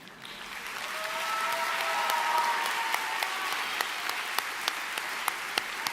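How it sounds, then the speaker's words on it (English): Steady applause from a crowd at a graduation commencement swells over the first couple of seconds and holds, with a few sharp individual claps standing out near the end. "I didn't have that applause break in there just yet"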